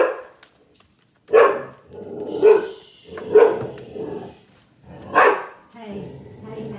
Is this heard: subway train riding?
no